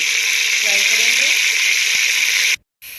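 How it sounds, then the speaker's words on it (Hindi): Chopped onion and whole garlic cloves frying in hot oil, a loud, close, steady sizzle with faint faster crackle, running evenly before cutting out abruptly for a moment and then resuming. "इसमें शामिल करेंगे एक बंगाली साइज की कटी हुई प्याज और साबुत 5 से लहसुन की जगह शामिल करेंगे और गोल्डन होने तक इन्हें फ्राई करेंगे"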